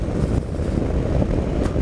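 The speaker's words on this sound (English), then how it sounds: "It's quite windy out there as well, actually." Steady low wind rumble buffeting the microphone while riding a Triumph Explorer XCa motorcycle, continuous and fairly loud throughout, with no talking.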